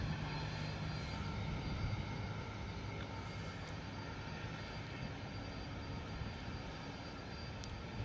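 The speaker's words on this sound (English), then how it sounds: "Beautiful DHL Airbus A300." A DHL Airbus A300 jet departs London Luton Airport in wet, windy weather, a steady, distant roar of engines that holds constant and fairly faint for several seconds, with no voices.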